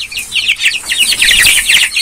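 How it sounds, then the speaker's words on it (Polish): Young chickens in a coop on fresh straw chirp and cluck continuously, a dense chorus of high peeping calls close by with faint rustling and no talking. "Jak widzicie, kurczaki już w kurniku."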